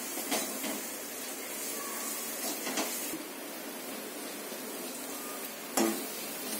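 Garam masala and tomato puree for pav bhaji frying in oil, a steady low sizzle running throughout, with a few soft spoon scrapes and one sharper knock near the end.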